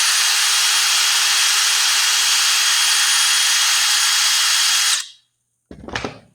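A power drill whines loudly and steadily for about five seconds, spinning in reverse against wood, then cuts off, followed by a brief whirring burst after a pause.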